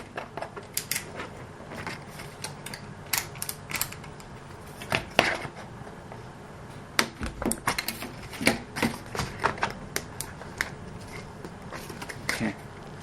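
Excess material trimmed neatly with scissors or a blade, giving a string of quick crisp snips and clicks at close range, irregularly spaced, with no speech over them.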